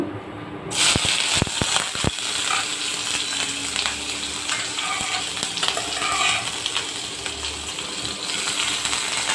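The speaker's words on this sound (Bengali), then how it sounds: "তেল দিয়ে দিয়েছি এখন পেঁয়াজটা ভেজে নিব" Onion hits hot oil in a pan for prawn curry, setting off a loud, steady sizzle with a few sharp clinks and stirring rattles near the start, continuing without talk.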